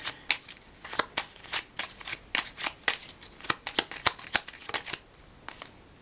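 Tarot cards shuffled by hand in a quick run of crisp riffling flicks and soft slaps, close and clear with no talking.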